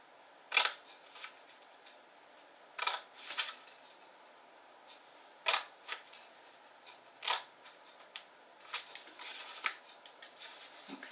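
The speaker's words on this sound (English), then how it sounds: "I think these scissors are rubbish." Scissors cut and notch card for a candle gift box in a papercraft demonstration, a series of short crisp snips arriving in small bursts separated by quiet pauses, close by and fairly soft.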